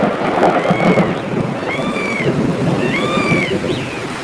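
Steady heavy rain and a thunderstorm rumble on without a break in a storm that brings down a bird's nest, with a few birdlike chirps rising above the downpour.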